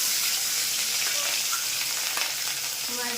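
Fish frying in hot oil gives a loud, continuous hiss, with small pops and crackles scattered through it and no voices.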